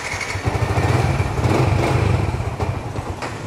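Idling Yamaha 150cc motorcycle engine with 48,000 km and a stock exhaust, a steady low, even rumble running close and continuously throughout with no talk.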